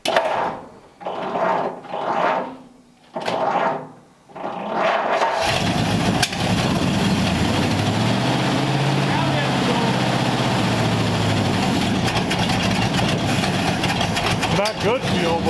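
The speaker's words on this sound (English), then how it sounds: "It's backfiring out of the carbs a little bit." An engine with carburetors, running on poor fuel and backfiring out of the carbs, starts up and runs loud and steady with a rough, continuous rumble after a few seconds of quieter handling noises and talk.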